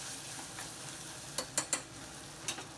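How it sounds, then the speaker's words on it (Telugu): Chana dal roasting in oil in a pan gives a faint, steady sizzle, broken by a few sharp spoon scrapes and clicks near the end. "మంచిగా మనకి పచ్చనపప్పు కూడా ఆయిల్లో రోస్ట్ అయ్యింది కొంచెం"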